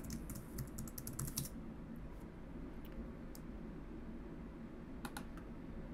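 Quiet keystrokes on a computer keyboard as an admin password is entered, short bursts of clicks over a low steady room hum, with a couple of later taps.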